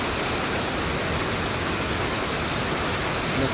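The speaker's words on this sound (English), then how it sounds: "The rain is just coming down heavy." Heavy rain pours down during flooding in Detroit, a dense, constant roar of falling water with no letup and no voices.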